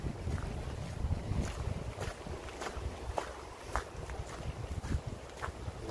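Wind gusts buffet the microphone outdoors on a nature walk, a low rumbling roar with occasional sharper rustles, fairly quiet and without talk.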